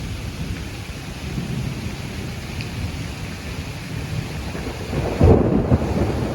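Steady rainfall patters under a nearby storm, and a single deep rumble of thunder swells near the end and then fades back into the rain.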